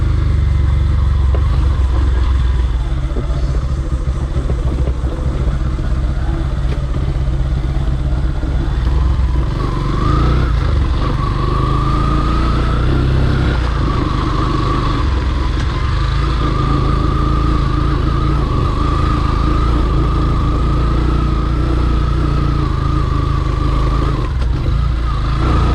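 A Yamaha FZ V3 BS6 motorcycle runs steadily and loudly through an off-road water crossing, its mid-pitched engine drone holding throughout with a slight rise in revs partway and some clatter underneath.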